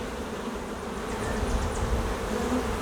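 Honeybees at a hive that has swarmed, a dense, continuous close-up buzzing from many bees with a steady, even loudness, and no voices.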